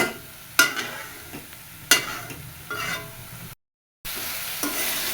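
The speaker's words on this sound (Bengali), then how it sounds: "জলটা শুকায় নেওয়ার জন্য ভাজতে থাকবো" Tender boiled greens sizzle in an uncovered kadai as the water cooks off. Close, steady frying is broken by sharp scrapes and clatters of a spatula stirring every second or so, with a brief dropout midway.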